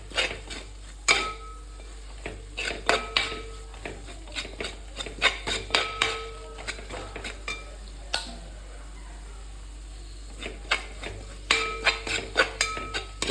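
Murrel fish curry masala stirred over low heat in a pot, a spoon scraping and knocking in repeated irregular strokes over a faint simmer, close and alone without voices.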